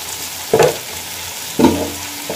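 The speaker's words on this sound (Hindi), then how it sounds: "मैं हल्के हाथों से हिलाऊंगी" Malabar spinach seeds stirred gently in a pan: two short scraping strokes about a second apart over a faint steady sizzle.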